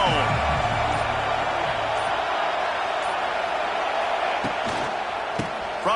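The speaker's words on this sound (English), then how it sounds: "This crowd ready to make its presence known." A football stadium crowd makes a steady, loud roar that fills the whole stretch, with a broadcast commentator's voice over it.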